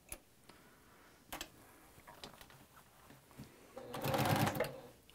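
A sewing machine quilting a quilt gives faint scattered ticks and clicks, then a short louder burst of rapid stitching near the end.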